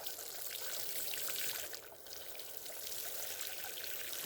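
Water pouring steadily onto the soil around a newly planted Blue Java banana plant, a close, continuous splashing trickle that briefly softens midway.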